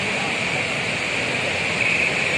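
Overflowing water at Srisailam dam roars as a steady, broad rush, close and loud with a constant hiss of spray and no break in the sound.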